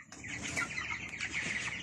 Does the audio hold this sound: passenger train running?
no